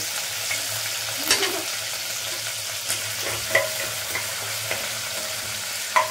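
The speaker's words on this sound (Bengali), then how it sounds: "এবার আমি কারি পাতাটা দিয়ে দেব। তারপরে দেব কাঁচা লঙ্কা কুচি।" Curry leaves and chopped green chilli sizzle in hot oil, a steady crackling fry with a handful of sharp spatula taps and stirring knocks spaced through, no voices.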